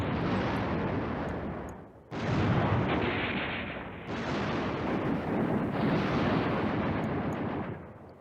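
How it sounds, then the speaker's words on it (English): Artillery fire in the war game Command Ops 2 rolls out as a series of long, heavy booming blasts, each lasting a couple of seconds with short gaps between, fairly loud and alone. "He's using the artillery to drive this infantry unit away from his path."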